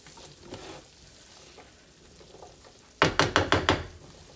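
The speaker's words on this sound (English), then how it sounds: "And I'm just going to saute these green beans." Salted green beans sauté in a pan with a soft, continuous sizzle, then a quick run of five sharp knocks or taps of a utensil near the end; no talking.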